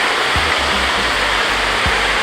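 Water rushes at Gatundu Waterfalls in a steady, loud, close roar, with a few soft low thumps underneath and no voices.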